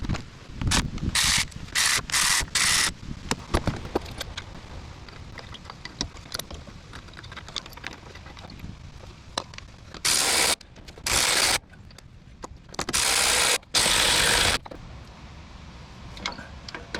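A ratchet tightens bolts on the CV axle and strut of a full-size GM SUV during a wheel bearing job, in repeated bursts of rapid clicking with pauses between.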